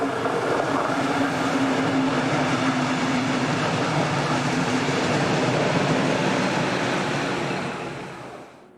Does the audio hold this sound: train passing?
yes